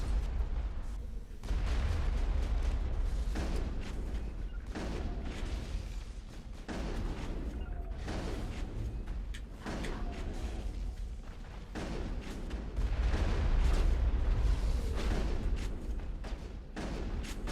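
Battle din from Mass Effect 1: repeated booming shots and blasts hit in dense, uneven bursts over a steady low rumble, loud and close throughout, with heavier impacts clustering near the end.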